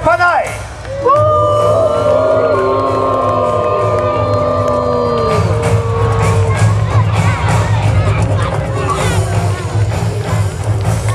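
A crowd at a knights' jousting tournament at a Pentecost spectacle at Schloss Broich cheers loudly and steadily for the knights' company, with shouts and a voice calling out over the sustained roar of the audience.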